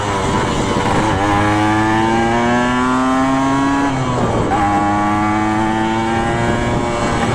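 A Kawasaki KE100 motorcycle on an old highway during a top speed run: a loud, buzzing two-stroke engine climbs steadily in pitch through a gear, dips at a shift, then rises again, with heavy wind noise throughout.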